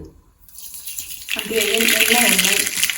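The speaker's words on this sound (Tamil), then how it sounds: "இப்போ எண்ணெய் வந்து ஒரு 1/2 கப்பு அளவுக்கு காய வச்சுருக்கேன். இதில் வந்து கடுகு" Mustard seeds drop into about half a cup of hot oil, a quiet moment and voices giving way to a sudden loud, bright sizzle that continues steadily close by.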